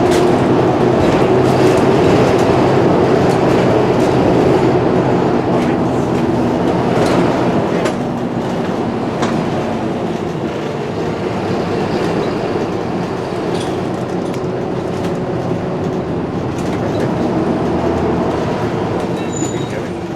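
A train at Penzance railway station terminus rumbles loudly and continuously nearby, with wheels clattering and squealing on the rails and station bustle around it.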